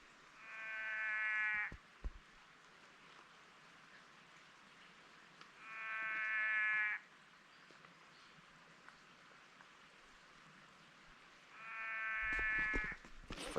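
Three separate buzzy, sheep-like bleating frog calls near Kata Tjuta in the Northern Territory, each about a second and a half long, spaced evenly apart over quiet background hiss.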